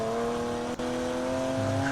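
A car engine in the mobile game Grand Mobile, overheating in an event task, drones with a steady mechanical tone and a slight pitch shift near the end, with no talk.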